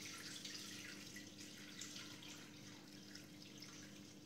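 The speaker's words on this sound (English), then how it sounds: "So now we need to add, 300 grams of water." About 300 grams of water is poured into a Thermomix bowl for ciabatta dough, a steady soft splashing trickle over a low hum, with nobody speaking.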